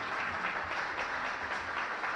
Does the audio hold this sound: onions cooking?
no